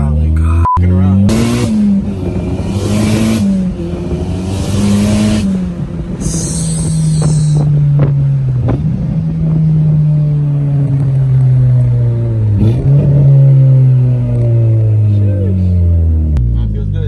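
Car engine pulls hard through several gears under steady throttle, its pitch climbing and dropping at each shift, loud and close from inside the cabin, with someone talking over it.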